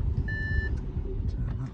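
An Audi A6 Allroad 3.0 TDI Quattro sounds a single short, clear key-in-ignition warning beep inside the cabin, followed by faint clicks and quiet background hum.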